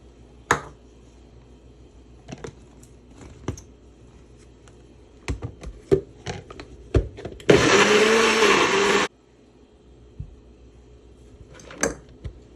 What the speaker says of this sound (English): So I'm gonna blend the onions